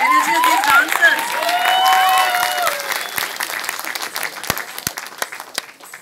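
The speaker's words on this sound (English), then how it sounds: "a louder applause. Your energy has to match the energy of these dancers." Enthusiastic audience applause and cheering after a Rajasthani folk group dance, with high whoops and shouts over dense clapping at first, then thinning to scattered claps.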